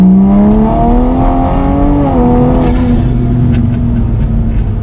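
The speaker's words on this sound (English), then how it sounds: "making so much noise with the exhaust" A Toyota A90 Supra's exhaust roars loudly and steadily as the engine accelerates in third gear, the pitch climbing through the revs and then settling into a lower drone.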